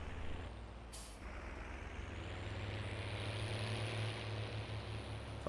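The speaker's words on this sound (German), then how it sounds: "Das ist dieses Getriebegeräusch" A worn MB Trac tractor in Farming Simulator 19, its damaged gearbox whining in a steady, loud drone with a rising tonal hum and an airy hiss early on.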